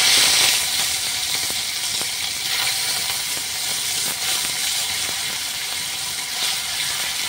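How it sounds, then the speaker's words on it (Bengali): Snakehead (shol) fish pieces fry in hot oil in a kadai, giving a loud, dense, continuous sizzle with fine crackling that stays steady throughout. "এবার মাছগুলো ভেজে নিচ্ছি।"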